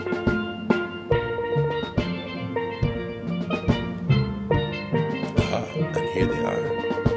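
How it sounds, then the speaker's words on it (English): Processional music fills a graduation ceremony as the academic procession enters, a dense sustained ensemble with steady rhythmic pulses and rich chords, moderately loud throughout. "we're hearing the strains of the academic procession coming in now."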